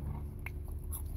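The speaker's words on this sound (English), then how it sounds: "fries aren't bad this time, they're crunchy" Crunchy Wendy's fries bitten close to the mic, with a couple of brief crisp crunches over a steady low background hum and no talking.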